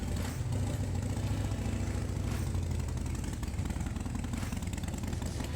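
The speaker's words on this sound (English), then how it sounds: "So start your engine, make sure there is no exhaust leaks" A motorcycle engine fitted with exhaust heat shields runs at idle, a loud, steady low rumble with a constant throbbing pulse held throughout, close by and without talk.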